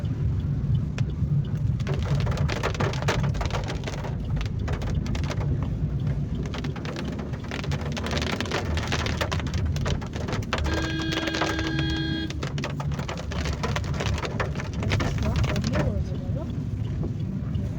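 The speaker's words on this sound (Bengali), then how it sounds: "নিম্নচাপের বৃষ্টি না সহজে কমতে চায় না" Heavy rain from a low-pressure storm pours steadily and loudly throughout, a dense continuous wash with a brief tonal hum partway through, heard during a trip from Berhampur station toward Daringbadi.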